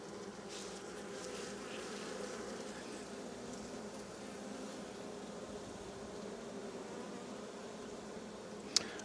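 Honeybees hum around an open hive during a brood inspection, a soft, continuous swarm-like buzz with many insects droning together and one small click near the end.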